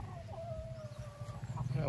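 Chickens of a Bakulod line cluck softly in a farmyard with background noise, and a faint higher call drifts through. A person talks over them.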